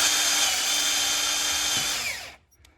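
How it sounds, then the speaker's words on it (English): A power drill bores steadily through two layers of metal stud on a car during a single wiper mod, loud and close, whining continuously for over two seconds before cutting off abruptly into near silence. "So you take a drill, my drill bit that I'm using fits right in the center of each stud"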